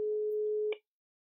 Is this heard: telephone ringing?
yes